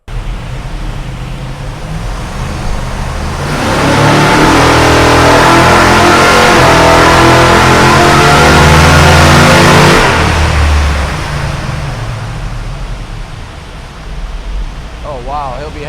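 A 440 big block V8 in a 1968 Dodge Charger revs hard on a hub dyno after an engine build, a loud sustained roar that builds over several seconds, holds at full power, then winds down to a rumbling idle.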